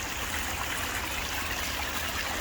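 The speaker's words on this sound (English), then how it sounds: "you see water is running over here, and this is where it's coming from" Water running steadily through a littered, vegetation-choked stream near the Soup Bowl at Bathsheba, Barbados, a continuous close broadband rush and trickle with no voices.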